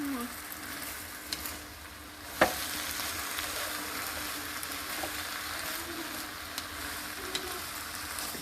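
Napa cabbage stir-frying in a pan, a soft steady sizzle with a few spatula scrapes and one sharp clink, fairly quiet and with no talk.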